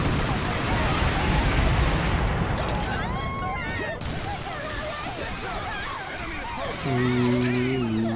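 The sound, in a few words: explosions in Earth Defense Force 4.1 video game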